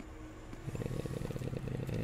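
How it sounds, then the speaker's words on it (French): A jigsaw runs inside the video game Spider-Man PS4, starting with a soft idle hum and then kicking into a loud, buzzing, rapidly pulsing motor drone that holds steady to the end, with no voices. "Depuis quand on a une nouvelle scie sauteuse?"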